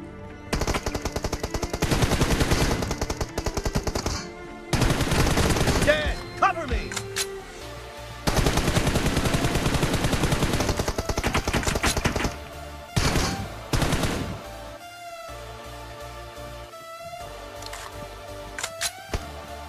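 Bursts of automatic gunfire from the mobile battle-royale game PUBG Mobile, in long rapid volleys broken by short pauses and a reload gap, with busy mechanical game sounds under a talking voice.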